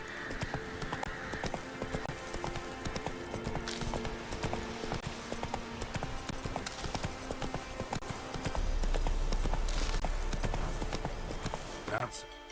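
Steady rhythmic hoofbeats of the horse Roach galloping in The Witcher 3, loud and continuous over game music and ambient sound, with a low rumble near the end.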